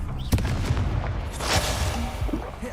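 Explosive Confringo spell blasts in the Hogwarts Legacy video game, sharp booming bursts layered over busy game action, with a louder blast standing out early and another swell midway.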